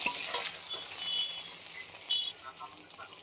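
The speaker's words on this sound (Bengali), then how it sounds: "বেগুনগুলোকে আমি লাল লাল কালার করে ভেজে নিয়েছি" Eggplant slices with a little turmeric frying in hot oil give a steady bright sizzle and crackle, with occasional light clinks and scrapes of stirring, close by and without speech.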